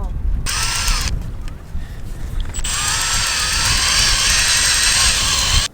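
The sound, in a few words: drilling and tapping screw holes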